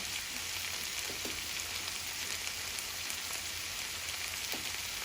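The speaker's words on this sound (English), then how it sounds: "Now we'll saute it, we'll mix it and we'll cover it and cook it for next 10 minutes" Vegetables with turmeric, chili powder and salt sizzle and fry steadily in a pan, a continuous crackling hiss with a few faint stirring taps and no voices.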